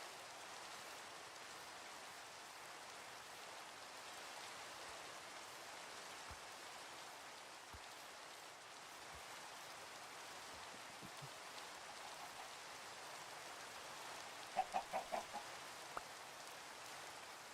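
Soft, steady rain hisses faintly in the background, with a few light taps and knocks near the end.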